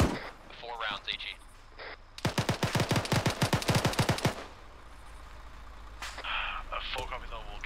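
ArmA 3 video game gunfire: a rapid burst of loud, evenly spaced automatic shots lasting about two seconds, framed by muffled radio-style voices before and after.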